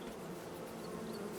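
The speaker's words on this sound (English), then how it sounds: "Bees, you are phenomenal." Bees in Farming Simulator 22 hum in a steady, dense buzz, continuous and moderately loud with no speech.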